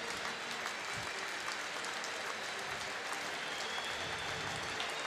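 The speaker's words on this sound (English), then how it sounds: "Due appreciation from this big crowd." A big rugby crowd at an England versus France under-20 championship match applauds in a steady, dense wash of clapping that fills the stands, distant and sustained without a break.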